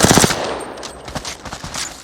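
Automatic gunfire in Apex Legends sprays at a wall, a rapid burst of loud shots up front followed by scattered lighter impacts and clicks.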